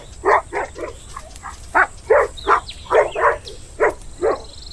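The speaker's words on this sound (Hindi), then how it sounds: "तभी भेड़िया उसे देखकर गुर्राने लगता है।" A wolf in a horror story makes a string of about a dozen short, loud, growl-like barks at an uneven rhythm. A faint high tone runs underneath.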